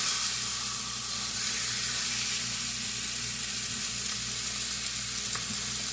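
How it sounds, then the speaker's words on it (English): Pork steak sizzles steadily in a hot pan, a loud continuous crackling hiss with no voices. "Now you hear that sizzle? That's what it should do."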